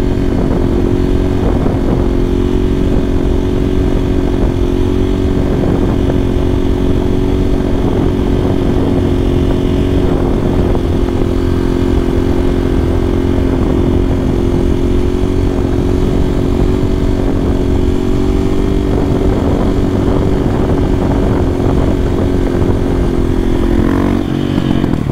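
Motorcycle engine running loud and close on a small square, a sustained rough buzzing drone with slight rises in revs, continuous throughout.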